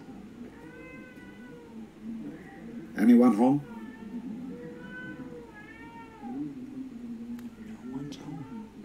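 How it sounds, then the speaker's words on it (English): Upset cats in the video game Twelve Minutes meow in a few whining calls, one sharp, loud yowl standing out midway. Someone speaks briefly between the cries. "Upset kitties."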